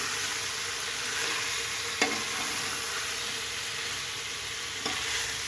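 Potatoes fry and get stirred into a simmering mutton curry, a steady close sizzle throughout with two sharp scrapes of a spoon against the pot.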